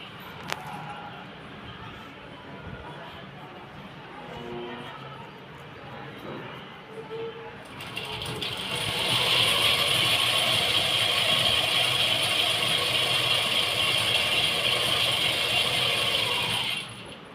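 A sewing machine stitches a double seam on a pair of trousers, first as a soft mechanical patter under speech, then as a steady, loud whirring run of stitching that holds for several seconds before stopping.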